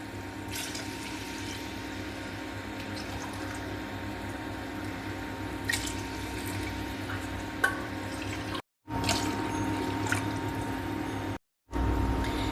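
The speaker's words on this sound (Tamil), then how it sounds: "4 ஆழாக்கு தண்ணி ஊற்றுறேன்." Steady splashing of water poured into a pot for chicken biryani runs on and on, close and continuous, with two brief breaks near the end.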